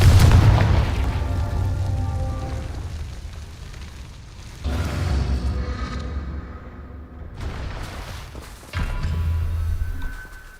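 Hogwarts Legacy's Confringo fire spell blows up three times: a heavy booming blast with rumbling decay, then two more explosive bursts with deep thuds and crackling debris, loud and close, with no speech.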